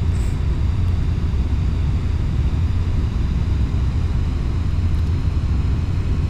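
A Boeing 747 flying in Flight Simulator X, heard as a constant dense low engine rumble and roar from a cockpit view, steady and loud throughout with no talking.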